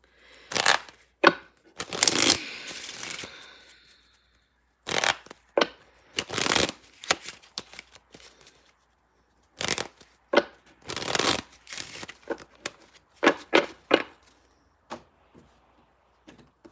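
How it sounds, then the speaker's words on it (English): Repeated bursts of tarot cards being riffled and shuffled close up, quick papery flurries separated by short pauses. "I'm going to shuffle these too."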